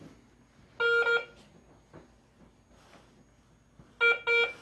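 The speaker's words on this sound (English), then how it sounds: "gives us a little beep" A metal detector passing over a nickel coin gives two short pairs of electronic beeps, one near the start and another near the end, with quiet rustling in between.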